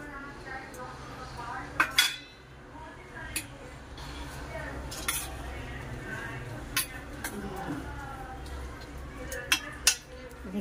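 A spoon clinks against a pan and dishes while lemon juice and salt are stirred into food in a home kitchen, with scattered sharp metallic taps over a low background hum and someone talking.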